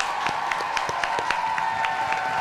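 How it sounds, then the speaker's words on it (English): An audience gives a round of applause, a dense steady burst of many hands clapping throughout, moderately loud with a faint crowd murmur beneath. "help me give a big round of applause for Kali Fa'ania."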